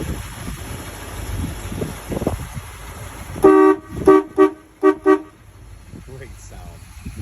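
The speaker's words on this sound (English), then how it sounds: "the one thing I wanted to see if the horn worked, and so I love the sound of this one." Horn of a 1957 Chrysler Windsor two-door hardtop sounding in a short burst followed by three more loud, evenly spaced honks, after some quieter background noise.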